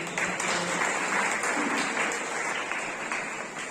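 Sustained applause from an audience at a free health check-up camp at a university, many hands clapping steadily and fairly loud throughout, with no voices over it.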